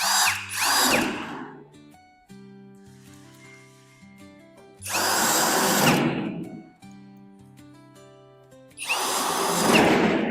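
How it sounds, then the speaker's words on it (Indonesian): A power drill driving screws into a wooden two-door wardrobe during assembly, three loud close whirring bursts of a second or two each, separated by quieter pauses with a steady background tone. "Bisa pakai obeng atau lebih praktisnya sih pakai alat biar lebih cepat gitu."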